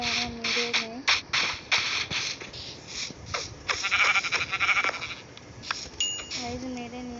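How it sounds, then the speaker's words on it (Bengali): A sheep in the Minecraft video game bleats in short, wavering tonal calls near the start and end, over a busy mix of other game noises. "আমরা ওইদিকে একটি ভেড়া পেয়েছি,"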